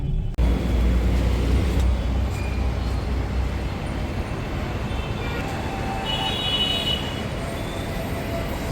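Heavy road traffic heard from inside a car with an air conditioner that isn't working: a steady, loud broadband rumble and hiss of passing vehicles that continues throughout.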